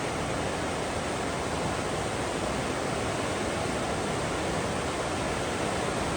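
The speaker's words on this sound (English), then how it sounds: "you can hear that river is ripping and roaring today" Constant broadband roar of a fast-flowing river on the Appalachian Trail, dense and unbroken, loud and close with no voices.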